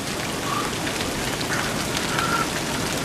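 Rain mixed with small hail falls steadily at the Fairy Meadows hut near Nanga Parbat, a dense, even patter close by with faint scattered ticks and no voices.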